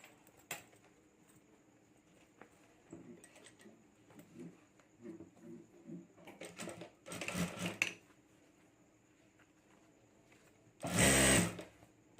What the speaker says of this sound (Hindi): और यहाँ अभी हमें सिलाई करके जोड़ देना है।